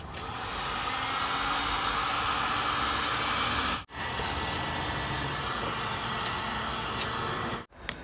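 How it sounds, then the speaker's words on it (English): A heat gun warms the edges of tint film on a Mercedes tail light, giving a steady, loud airy blowing roar that runs continuously, cutting out briefly twice. "What I'm doing now, I'm just heating the edges so I can tuck in the film a little bit before I go around and cut it."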